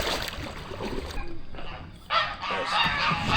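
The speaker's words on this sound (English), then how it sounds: "Oh, gobby geese, gobby geese." Geese honk loudly and repeatedly near a kayak on the water, harsh nasal calls in bursts with some water and paddling noise around them.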